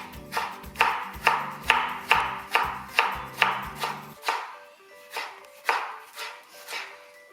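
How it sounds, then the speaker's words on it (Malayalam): A knife chops deseeded tomato on a board for a fresh salad, with rapid, evenly spaced close cuts that slow into a sparser rhythm of single chops partway through. "കുരുവെല്ലാം കളഞ്ഞിട്ട് അത് തിന്നായിട്ട് അരിയുന്നത്."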